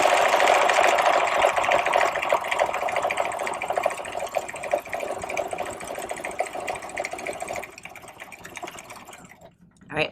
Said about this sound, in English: the looper up, turn to step 4, which is going to give us the other side of the buttonhole